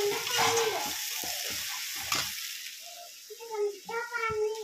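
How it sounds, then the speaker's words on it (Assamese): Paneer fries in a pan with a broad steady sizzle through the first half, broken by a few stirring scrapes, then thins out as a voice speaks briefly near the end. "পনীৰটো এইটো ভাজিয়ে লৈছোঁ।"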